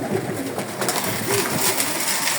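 Janssen red fox racing pigeons coo softly while feeding, a low murmuring burble over steady background noise, with no voices.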